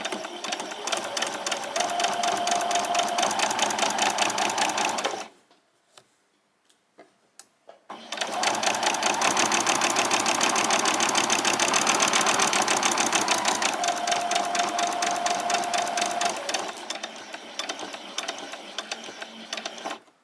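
A sewing machine stitches straight down a piece of fabric for a summer top in two long, steady runs of rapid mechanical whirring, broken by a short pause, with the machine running close and loud throughout.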